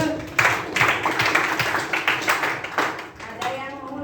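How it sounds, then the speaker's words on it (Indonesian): Classmates in a tenth-grade class give a round of hand clapping for two students, a scattered classroom applause of moderate loudness mixed with voices. "kita tepuk tangan untuk Aurel dan Galih dulu"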